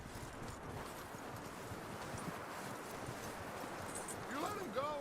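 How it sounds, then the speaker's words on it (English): Horse hooves clip-clop at a walk in the Red Dead Redemption 2 video game, a steady rhythmic patter of steps over a dense, continuous outdoor background, fairly close and even in level throughout. "Leve o cavalo até o palanque."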